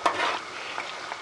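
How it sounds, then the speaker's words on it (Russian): A pot of vegetable-and-meat gravy comes to a boil on the stove, giving a soft bubbling sizzle with faint stirring and a slightly louder burst at the start, no voices. "закипает наш подлив."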